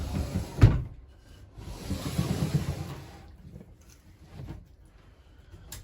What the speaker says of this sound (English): Your door, just at the travel latch right there, and just slides.